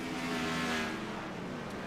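NASCAR Gen 4 race cars roaring in the iRacing simulator, a continuous dense engine drone at moderate level with no clear pass-by or talk.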